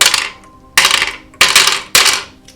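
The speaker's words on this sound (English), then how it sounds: "Each of these damage counters is metal." Metal Pokémon card-game damage counters clink and clatter together in four bright, ringing bursts, each sharp hit decaying with a shimmering metallic jingle, close and loud with no talking.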